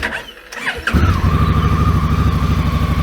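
A Honda Africa Twin motorcycle, recently targeted by thieves, is started: a brief starter crank and whir lasts under a second, then the engine catches and settles into a steady, loud, throbbing idle, close by.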